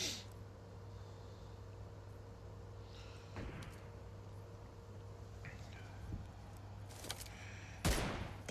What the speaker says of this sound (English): Bull firing that sniper towards that driving vehicle